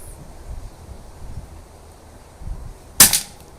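An air rifle fires a BSA pellet at a target outdoors: one sharp, close crack near the end, after a few seconds of quiet wind and rustle.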